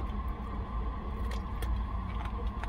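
A car engine idles at minimum revs in a parked car, giving a steady low rumble with a faint hum and occasional light clicks and rattles.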